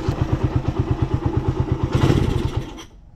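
Motorcycle engine idling roughly and misfiring, with loud uneven chugging pulses close by. A brief throttle twist brings a surge, then it stalls and cuts out into silence.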